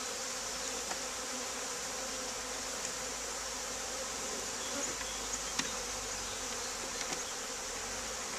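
A package of honey bees being installed into a hive makes a steady, dense buzzing swarm drone that continues throughout at moderate volume, with a few faint clicks and knocks from the hive frames.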